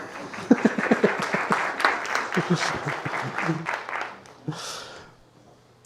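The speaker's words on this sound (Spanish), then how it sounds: "Un aplauso para Edu en cámara." An audience at a talk on virtual and augmented reality breaks into applause, with dense clapping for about four seconds that thins out and stops, followed by a brief rustle.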